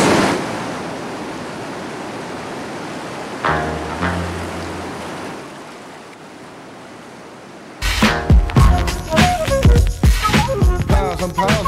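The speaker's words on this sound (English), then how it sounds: "Got our first boat coming in here to the reactionary waves." Class 5 whitewater rapids at Double Z on the Lower New River, a steady loud roar of rushing water and reactionary waves. Partway through, rhythmic music with drums and plucked notes comes in over the roar.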